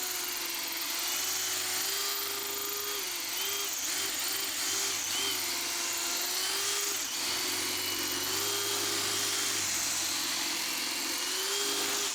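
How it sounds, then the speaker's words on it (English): A steady high-pitched drill whine runs continuously with a droning tone that wavers in pitch, as a hammer drill with a 6mm diamond bit grinds through stone at close range. "switch to a 6mm diamond bit on the hammer drill"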